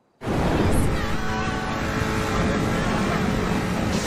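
A Batmobile-style car engine roars in a video game, starting abruptly and holding a loud, steady growl close by throughout.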